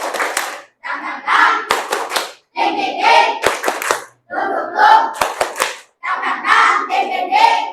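A classroom group claps a rhythmic 'tepuk semangat' chant, sharp bursts of hand claps interleaved with short shouted chanting phrases in a repeating pattern, voices and claps close and lively.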